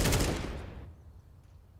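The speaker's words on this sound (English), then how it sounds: "Oh, nade like that. That's 75 damage off that." A grenade goes off at the B site in a Counter-Strike match: a single loud, broadband blast that rumbles away over about a second, followed by the sharp start of another sound at the very end.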